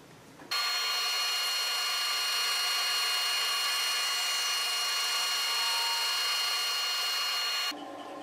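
A bandsaw fitted with an Accu-Slice fence cuts through a wood board in one loud, continuous whine that starts abruptly, holds steady for about seven seconds, then drops away, with no talking.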